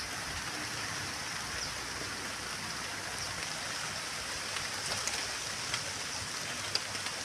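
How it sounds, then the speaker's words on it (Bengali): Soft, steady rain falling outdoors among plants, a faint continuous hiss with scattered drip ticks and no voices. "বৃষ্টিটা এখনো পড়ে যাচ্ছে"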